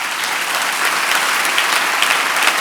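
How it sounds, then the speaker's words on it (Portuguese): A church congregation applauds loudly and steadily, a dense wash of clapping from many hands filling the room throughout. "Aplauda o Senhor bem forte."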